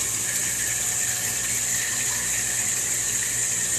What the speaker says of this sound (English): I'm just going to purge all the crud, all the old enzymes, and all the junk out, and the old water out of the machine.